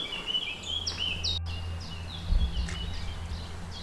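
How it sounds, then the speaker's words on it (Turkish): Several short bird chirps and calls sound from a distance at the Dachau concentration camp site, over a low, steady background hum, with no one speaking. "Şu an kuş seslerini yankılandı bu alanda."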